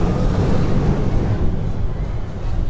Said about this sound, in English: I think if we're quick here, we can catch the splash.